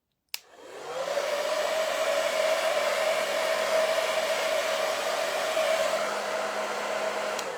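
A hair dryer clicks on and runs with a steady, loud whirring roar that continues without a break.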